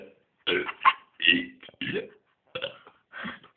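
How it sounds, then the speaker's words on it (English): A man burps his way through the alphabet, a series of about six deep, voiced burps in a row separated by short pauses, loud and close. "doing ABC burping"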